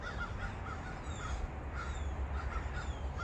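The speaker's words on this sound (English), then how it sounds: "those are the birds, the choir" Crows caw repeatedly outdoors on a morning with fruit trees nearby. Their harsh calls come in irregular bursts, some near and some farther off, over a low, steady rumble of background noise.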